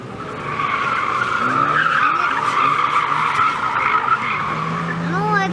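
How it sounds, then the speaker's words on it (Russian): A rally car slides through a handbrake turn at an autoslalom event in Navia, Asturias, Spain, with loud continuous tyre skidding and engine roar throughout, while voices talk faintly underneath. "Посмотри, видишь, он с ручником поворачивает."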